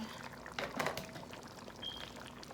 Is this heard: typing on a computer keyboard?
no